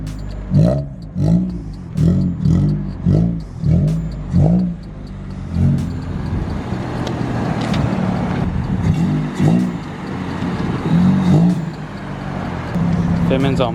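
A lowered Honda Civic EK on coilovers with full rear suspension upgrades and max camber, its engine revving and accelerating up close in repeated pulsing surges, then a steadier drone under someone speaking.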